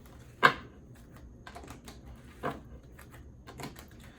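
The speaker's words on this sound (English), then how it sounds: "Let me get all the cards out" Tarot cards drawn from a deck and laid out, giving a few soft, sharp taps and clicks spaced a second or two apart in an otherwise quiet room.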